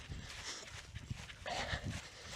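Dogs move about a garden near a veranda, giving soft yips and brief whimpering barks, with one louder burst partway through over faint outdoor background noise.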